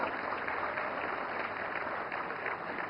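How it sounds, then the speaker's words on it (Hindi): A hall audience at the 70th National Film Awards ceremony applauds, a steady, even wash of many hands clapping at moderate volume, heard from some distance. "फिल्म गुलमोहर के लिए जोरदार तालियां।"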